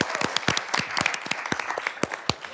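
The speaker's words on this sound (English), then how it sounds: "Round of applause for Jose and Lynn" An audience at a council goal-setting session gives a short round of applause, with sharp, distinct claps that sound fairly close and scattered.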